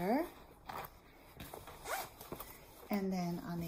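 Zipper closures on a handmade sewn planner cover being run open or shut, a few quick raspy zips close by, with a person talking alongside.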